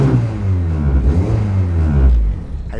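An SR20-swapped Mazda Miata engine revs up once, a loud close low rumble climbing in pitch and holding before dropping back off near the end.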